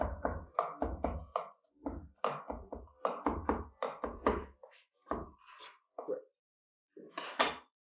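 Knife chopping green peppers and tomatoes on a cutting board in a kitchen, a quick run of sharp knocks in uneven bursts with short pauses, close and fairly loud, no talking.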